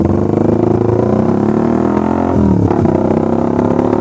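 A motorcycle engine idles steady around 2000 RPM, a continuous close, loud harmonic drone with a slight dip and wobble near the middle but no stuttering or misfire.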